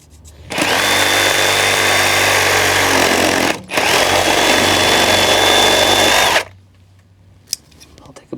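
A power tool cuts through the feed line pipe of a koi pond bottom drain, a loud close whine running for several seconds, pausing briefly, then continuing before stopping.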